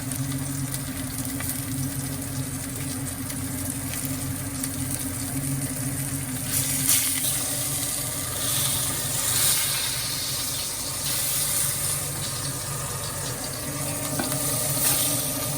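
A pot roast studded with pepperoni and garlic browns in a hot pan, giving a loud, steady sizzle and hiss with occasional stirring or shifting, unbroken by talk.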